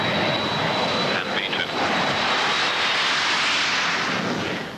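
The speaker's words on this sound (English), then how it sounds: "Mirko, though unfamiliar with the big airliner, makes a perfect takeoff." A BAC One-Eleven jet airliner roars steadily through its takeoff and climb, a loud, continuous broadband engine rush that holds nearly constant and fades slightly at the end.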